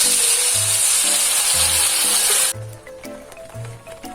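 A small amount of oil for chicken and beef rendang with potatoes sizzles loudly in a pan for a few seconds, with thumps and clatter, then the hiss drops off sharply to a quieter background of knocking kitchen sounds.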